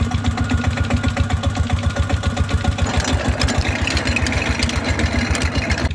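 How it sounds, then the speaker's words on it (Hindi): A farm engine running in the fields after being started, a loud, close, steady rhythmic chugging with fast regular knocks that hold for the whole stretch, no voices over it. "इंजन चल पड़ा जी"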